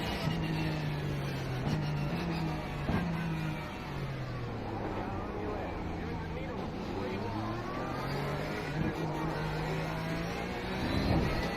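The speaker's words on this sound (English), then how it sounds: "Just letting the cars by." Race cars in iRacing, a Porsche iRacing Cup field at Snetterton, roar steadily nearby, engine pitch rising and falling as several cars pass, with someone talking over them.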